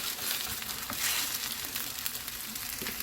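A thin seaweed (parae) pancake sizzles in an oiled pan, giving a steady, soft crackling fry at close range with faint stirring and no voices.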